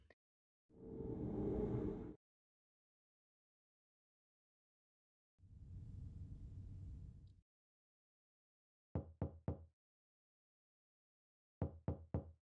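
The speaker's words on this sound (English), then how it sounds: "I can hear a knocking on the door, guys." Knocking on a door in the PC game Silent Hill 4, two quick bursts of about three sharp knocks each, loud and near against near silence, after two longer muffled rumbling swells.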